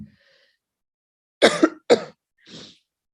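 Two or three sharp, close coughs in quick succession after a near-silent pause, then a softer throat sound.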